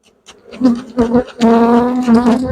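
Honey bees from an aggressive colony buzz close and loud during a beehive inspection in a Ukrainian hive, with a droning, wavering hum that swells in overlapping bursts.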